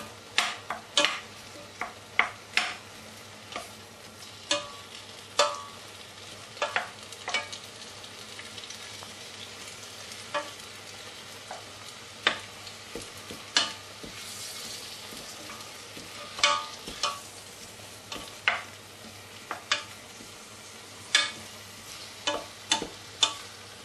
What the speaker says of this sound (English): Just give it a good stir around.